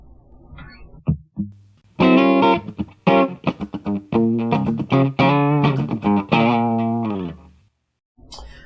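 Electric guitar with a jazzy tone shaped by digital effects running on a Nordic nRF and Zephyr powered processor, playing a short run of clear sustained notes and chords, loud and close, with no talking.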